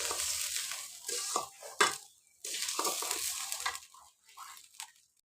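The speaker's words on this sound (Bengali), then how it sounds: "এবার চালগুলো ভালো করে ভেজে নেবে" Rice for biryani fries in a pan, giving a soft sizzle with scraping stirs that come in bursts separated by short quiet pauses.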